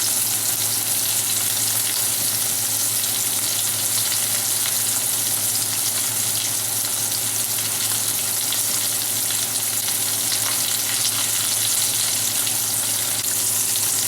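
Beef chuck roast searing in a hot pan produces a loud, continuous, dense sizzle that holds steady with no pauses and no talking.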